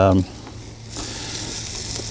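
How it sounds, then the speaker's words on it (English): Loud, steady sizzling close by of meat searing on a portable camping grill, following a brief opening tone. "look at that sizzle"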